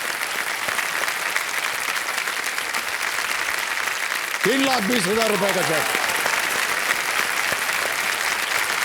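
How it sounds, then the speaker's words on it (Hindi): Loud applause from a TV quiz show studio audience on KBC, a dense sustained clatter of many hands filling the whole stretch, with someone speaking briefly over it midway. "और ताली बज जाए जोरदार।"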